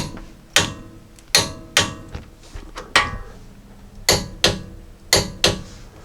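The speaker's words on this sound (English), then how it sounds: "we're going to torque each of these bolts down to 85 foot-pounds" A torque wrench on the sway bar link bolts of a 2016–2021 Jeep Grand Cherokee, set to 85 foot-pounds, gives sharp metallic clicks, roughly eight in an uneven rhythm, loud and close.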